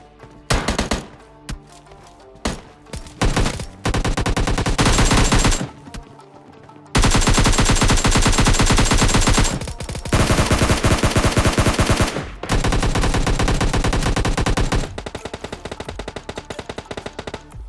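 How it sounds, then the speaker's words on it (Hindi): In the PUBG Mobile Lite video game, guns fire in loud, sustained automatic bursts with long stretches of rapid shots, broken by short pauses and a few single shots. "मुझे इधर से गन साउंड आते"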